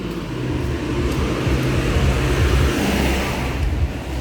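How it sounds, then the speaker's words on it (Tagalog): Road traffic rolls past on a tree-lined road, a continuous loud rumble of engines and tires close by, with no talk over it. "ano pa yung mga sasakyan madami-dami pa"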